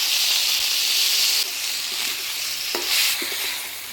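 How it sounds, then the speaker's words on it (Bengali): Potatoes and flat beans being tossed with ginger, cumin and chilli paste in a pan, giving a hissing sizzle with a few soft clacks from the spatula, close by, and the hiss drops a little partway through. "আলুর সাথে শিমটা ভালো করে নাড়াচাড়া করে নিলাম"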